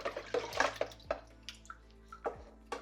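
An aquarium filter sponge is rinsed under water, heard as close, irregular splashes and drips in a quiet room, with no speech.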